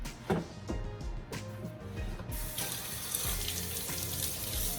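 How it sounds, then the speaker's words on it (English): Tap water runs from a faucet down onto fresh ears of sweet corn in a kitchen, a soft steady trickle that grows to a fuller splash partway through, fairly quiet and close. "I'm just going to run some tap water down in the center of it"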